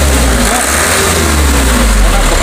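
A 1991 Colt Diesel truck engine with 120 PS, formerly a police vehicle, revs hard and steadily close by, a loud continuous diesel roar with no talk.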